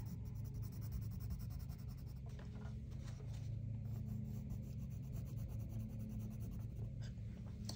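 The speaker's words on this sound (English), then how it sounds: "The proper way to shade with your colored pencils is, we're going to do it on this side" Soft, repeated scratchy strokes of a colored pencil shading across paper, close up and quiet, over a low background hum.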